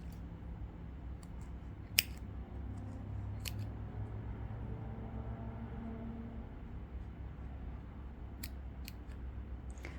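Scissors snipping through a knitted steek in a jacquard (stranded colourwork) piece, a few sharp close cuts over a steady low room hum, with no talking.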